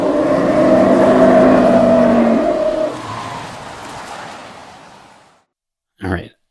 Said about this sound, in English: we have a mediocre elephant engine sound with a mediocre sound of the car pass by